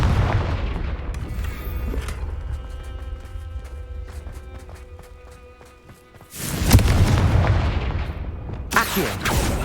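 Confringo spell blasts from the video game Hogwarts Legacy: a heavy explosive boom opens, followed by a ringing, crackling decay, then a second loud burst of booms and rumbling impacts.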